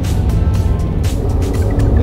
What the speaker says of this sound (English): tranny automatically shifted